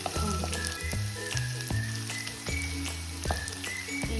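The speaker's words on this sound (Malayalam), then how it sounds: "അപ്പോൾ നമ്മൾ ഇഞ്ചി ഇട്ട് കൊടുക്കണം." Long strips of ginger fry in hot oil for a dried mango pickle, giving a steady, close sizzle with crackling pops and a few stirring knocks throughout.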